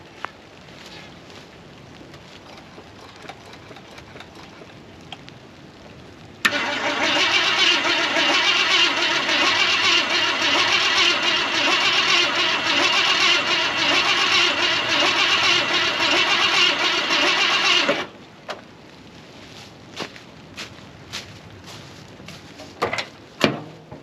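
A 1973 Ford F250 engine cranks over for about eleven seconds, a loud steady starter churn that stops abruptly, followed by quiet clicks and handling noises.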